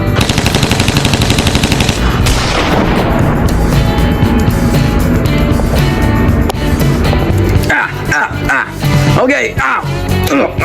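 Rapid bursts of AK-47 fire in a video game, loud and dense, mixed with other game sounds and talking voices throughout.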